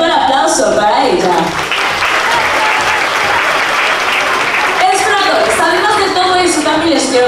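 Loud, steady applause from a large crowd at a sea lion show in a Mazatlán aquarium fills the whole stretch, with clapping dense and sustained and voices mixed in.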